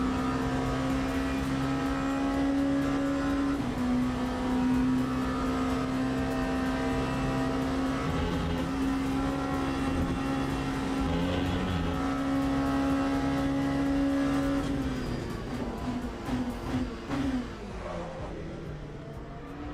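Race car engines in the sim racing game Le Mans Ultimate drone loudly and steadily with shifting pitch, then drop and stutter near the end as revs fall.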